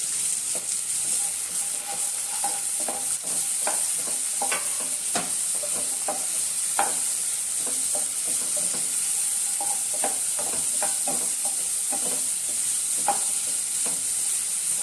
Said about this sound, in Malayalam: വലിയ ഉള്ളി അരിഞ്ഞത്, കുറച്ച് പച്ചമുളകും കൂടി ഇട്ട് കൊടുക്കുക